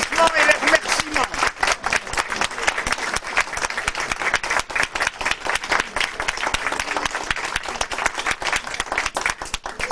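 Sustained, dense applause from the audience at a 1996 photo competition ceremony held by a local historical and cultural society, many hands clapping evenly and loudly without a break.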